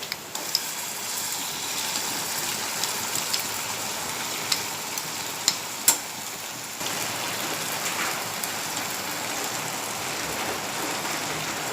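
Onions sizzling in a pan with green masala, a dense steady hiss that sounds like rain, with a few faint clicks and taps throughout.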